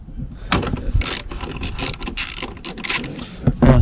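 Ratchet loosening an 8mm bolt on a 2002–2006 Volvo XC90 rear tail light, rapid clicking bursts of the pawl with brief pauses between strokes, close and loud, no talking.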